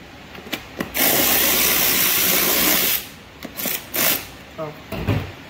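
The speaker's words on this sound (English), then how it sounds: "6 more 8 millimeter bolts that we are going to take off." Behind the panel of a 9000-watt Predator generator, 8 mm bolts are removed with a power tool: a loud sustained whir for about two seconds, followed by shorter bursts and metallic clicks, heard close with no talking.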